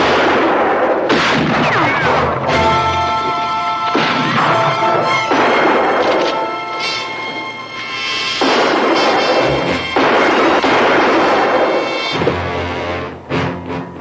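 Gunfire rings out in a western film, several loud sharp cracks with echoing tails spaced over a tense scene, with crashing impacts in between and no talking.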